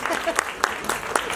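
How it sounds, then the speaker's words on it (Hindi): Audience applause at a celebrity announcement event, heard as sparse, sharp claps in an uneven rhythm under a speaking voice, fairly close. "जोरदार ताली बजनी चाहिए।"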